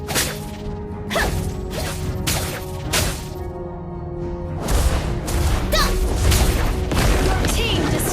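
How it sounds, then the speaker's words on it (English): Mobile Legends game action with a turret being destroyed: a series of sharp whooshing strikes and crashes, then a denser burst of impacts and booms layered over continuous game music and effects. "Your team destroyed a turret."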